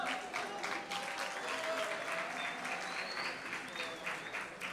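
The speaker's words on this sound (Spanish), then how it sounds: "Los recibimos con un fuerte aplauso." Audience at a secondary-school presentation event applauding steadily to welcome students to the stage, a dense continuous clapping from a crowd.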